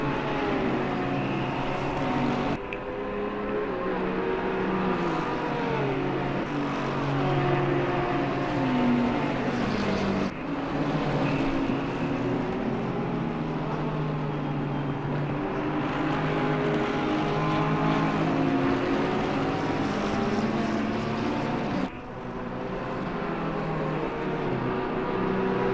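Race cars lapping Suzuka in a racing video game, sustained high engine whine that rises and falls with gear changes and passing cars, continuous and fairly loud with a few abrupt cuts, no voices.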